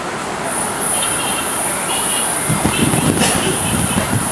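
São Paulo commuter train arriving at Vila Olimpia station, a steady broad rumble of cars rolling past nearby with brief squeals and clanks toward the end.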